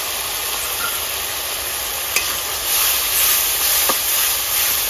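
Ginger, garlic and green chili paste hits a hot pan in a rustic village kitchen, giving a steady, loud hiss and sizzle throughout with a few faint clicks and no talking.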